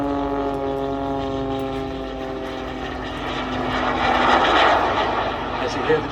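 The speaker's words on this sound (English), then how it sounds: "As you hear the jet engines wind up." An aerobatic plane's propeller and small jet engines at an air show whine and rise in pitch, droning steadily before swelling louder toward the end, heard from some distance.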